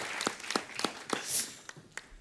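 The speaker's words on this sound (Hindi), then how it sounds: "जोरदार तालियां तोशी और शारिब के लिए" Light, sparse audience applause on a comedy TV show, a handful of distinct claps at a steady rhythm fading out after a couple of seconds, fairly quiet and close.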